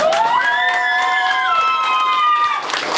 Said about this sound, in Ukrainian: Таня співала першу. Ваші оплески, Таня.